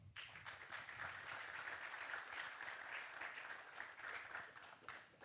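An audience at a panel discussion on smart contract security breaks into sustained applause, a dense wash of clapping that holds steadily for several seconds.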